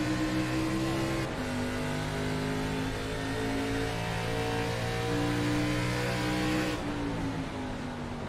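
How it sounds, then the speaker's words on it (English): A race car downshifts and revs on a circuit, its engine droning loud and steady with two abrupt pitch shifts as gears change, no voices over it. "He's downshifting. He was in third gear there."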